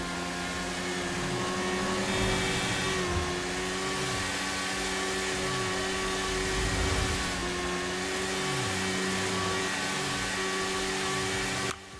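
Heavy motorcycle in GTA V accelerating toward top speed, its engine whining loud and continuous with repeated rising sweeps as it climbs through the revs, heard alone.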